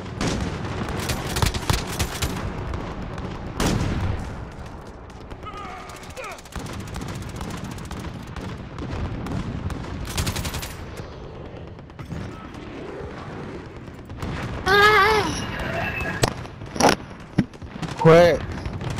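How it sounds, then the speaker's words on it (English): Enemy cruise missile strike in Call of Duty: Modern Warfare: a dense wash of game combat with sharp explosive bursts and crackling gunfire, rising into louder impacts near the end, with voices over the din. "Enemy cruise missile incoming."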